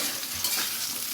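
Green chilli, potato and eggplant fry together in a pan, giving a close, continuous hiss and sizzle for just over a second, with no talking.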